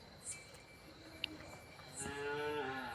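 A low, drawn-out moo from cattle near the end, over faint crickets and quiet outdoor background.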